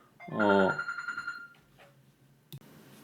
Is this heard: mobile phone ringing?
yes